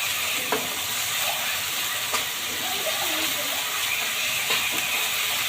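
A spoonful of onion, garlic and ginger paste sizzles and hisses in a hot pan, a steady frying crackle with a few soft knocks of stirring, heard close and alone.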